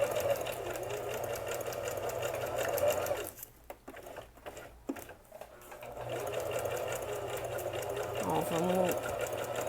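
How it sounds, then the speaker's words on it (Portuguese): Sewing machine stitching braided straw rope together, its steady motor whir running loud and close, then pausing for a couple of seconds before starting up again, with a brief voice near the start. "agora eu vou costurar as duas juntas"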